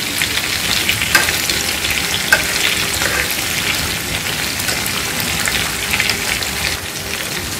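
Shrimp frying crisp in hot oil in a pan, a loud, continuous close sizzle with dense popping crackles, rain-like and unbroken for several seconds, with no speech.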